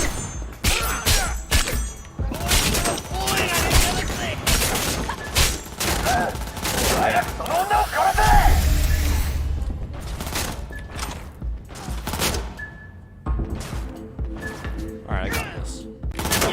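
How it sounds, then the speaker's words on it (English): Gunfire in the video game Cyberpunk, with repeated sharp shots and bursts across the scene, some heavy and close, under intermittent talk from players. "What are you shooting?"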